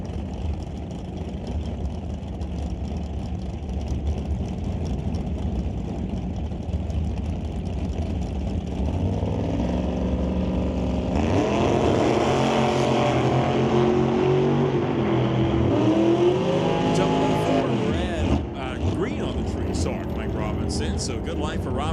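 Two drag racing roadsters launch side by side at a bracket racing event, engines roaring loud and close, pitch climbing as they pull away, with an announcer talking over them throughout.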